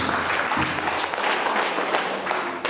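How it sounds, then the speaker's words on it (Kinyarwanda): Congregation applauding during a lively worship prayer service, a dense steady wash of many hands clapping throughout, fairly near and moderately loud. "komera imana amashyi menshi."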